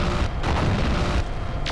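A mech explodes in the video game Mechwarrior 4: Mercenaries with a loud, deep, rumbling blast that fills the whole moment, followed by a second heavy surge of booming noise.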